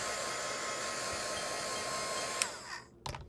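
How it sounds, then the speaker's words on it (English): A hair dryer runs steadily at close range to dry wet-on-wet cloud paint, a constant airy whine and rushing hum that cuts off abruptly near the end, followed by a brief clatter. "this is your opportunity to use your heat tool or hair dryer"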